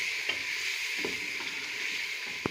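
Tomatoes sizzle and fry in a pan for a chana dish, making a steady close hiss with a few soft stirring bumps.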